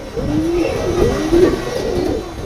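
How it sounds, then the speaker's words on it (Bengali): Pigeons at a Bangladeshi pigeon farm coo in overlapping, throaty, low rolling calls, loud and close, continuous over a soft background bustle. "বাকবাকুম শব্দে খুনসুটিতে ব্যস্ত পায়রার পাল"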